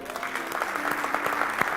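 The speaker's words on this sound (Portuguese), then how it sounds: "Você pode dar um aplauso a ele?" A church congregation applauds during a sermon on the mysteries of the Kingdom of God, steady dense clapping sustained throughout at moderate loudness, with a faint hum and a voice murmuring underneath.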